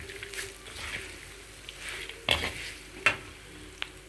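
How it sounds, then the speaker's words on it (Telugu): A spoon scrapes and stirs flattened rice (poha) with salt in a pan, giving soft repeated rasps with a couple of sharper clinks against the metal, close up and with no talking. "ఒకసారి బాగా తిప్పండి ఈ ఉప్పు అన్నీ అటుకులు పట్టాలన్నమాట"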